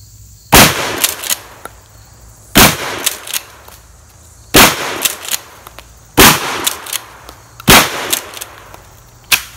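Five loud, sharp shotgun blasts from a budget Mossberg home-defense gun fired outdoors into a dead tree, evenly spaced about two seconds apart, each with a short echoing tail and small cracks after.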